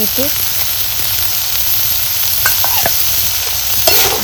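Vegetables sautéing in oil in a pan, a loud continuous sizzle and hiss with occasional light stirring clinks, heard close with no talking.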